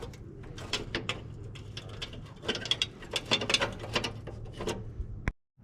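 A ratchet wrench removing bolts from an abandoned VW Beetle body, rapid clicking strokes in uneven bursts, close and clear, ending abruptly, with no talking.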